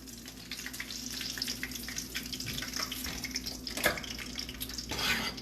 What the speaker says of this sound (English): So once you fry your croquettes,